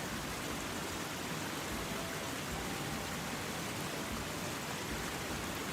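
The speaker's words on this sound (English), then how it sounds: "the crashing sound of the waterfall became louder" Crashing waterfall ambience, a dense, steady roar of falling water that fills the whole clip loudly and evenly, with no pauses or other sounds.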